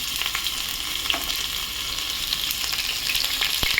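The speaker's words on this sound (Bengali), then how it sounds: "রসুনটা ভাজা ভাজা হোক" Chopped garlic frying in mustard oil in a pan, a steady close crackling sizzle with faint stirring scrapes and a couple of sharp pops, no voices.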